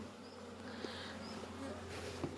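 Honey bees hum around a beehive in a steady, faint buzzing drone that holds throughout, with no voices over it.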